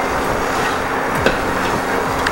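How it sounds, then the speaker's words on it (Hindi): Cauliflower florets with spices are stirred in a pan, a soft continuous sizzle under repeated scraping and knocking strokes of a spoon against the metal, close up and without speech. "चलिए इसे अच्छी तरह से मिक्स कर लेते हैं मसालों को"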